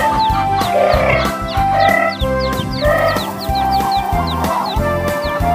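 Chickens clucking and chattering continuously, a busy flock close by with overlapping calls over a steady background hum.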